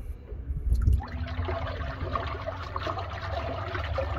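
A trolling motor spins in murky water, giving a steady churning, trickling wash that runs continuously after a brief louder splash at the start.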